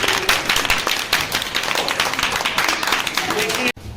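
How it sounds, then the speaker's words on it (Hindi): A classroom of students clapping together in one sustained burst of applause, loud and close, dense hand claps filling the room before stopping abruptly. "चलो ताली बजाते हैं एक बार"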